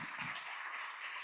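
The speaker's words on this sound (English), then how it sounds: "Let's give Tom a big round of applause tonight for a great program." Audience applauding after a foreign policy program, a short continuous wash of clapping heard from across the room.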